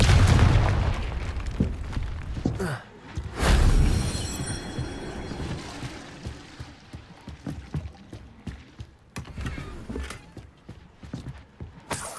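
Two booming blasts from the Confringo fire spell in the Hogwarts Legacy video game, one at the start and another a few seconds later, followed by a trail of lighter clip-clopping steps and soft thuds.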